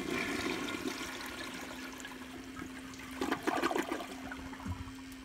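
Standard Devoro Jr toilet bowl on a flushometer valve flushing with barely any water in the bowl, a steady rushing wash with a low hum throughout and a louder surge of water near the end.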